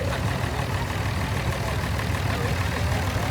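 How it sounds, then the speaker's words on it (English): A Ford 801 tractor with original paint, Select-O-Speed transmission, power steering and live PTO, running at a steady idle during a steam and gas show parade; a continuous low engine rumble, fairly close, with no talk over it. "The Select the Speed, original paint Ford 801"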